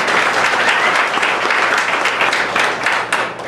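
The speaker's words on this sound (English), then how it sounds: "let's give Tobias a round of applause" A meeting audience breaks into loud, sustained applause, dense overlapping clapping from many people that holds steady before tapering slightly at the end.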